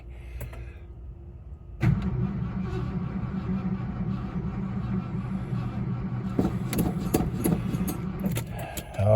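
A machine nearly out of fuel cranks over and over after a short click, a steady grinding churn that runs for several seconds without firing.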